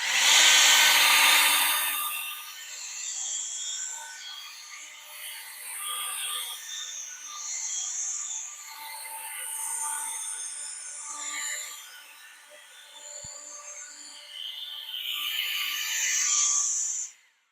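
A Mist-Pro mist sprayer blower sprays insecticide onto foliage for mosquito control, giving a steady, fairly loud airy rush and engine whine that holds for the whole stretch with slight surges, strongest at the start and end.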